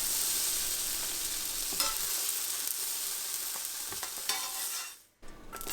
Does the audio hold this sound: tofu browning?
yes